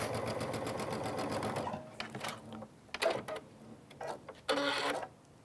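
A sewing machine stitches a toss pillow seam in a fast, even whirring run, then stops and follows with a few short, quieter bursts of stitching, heard close with no talking.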